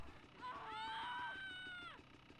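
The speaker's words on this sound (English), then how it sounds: "Why the hell are people screaming?" People screaming in Grand Theft Auto: San Andreas, a rising, wavering group of high-pitched shrieks lasting about a second and a half over low game ambience, with no talk.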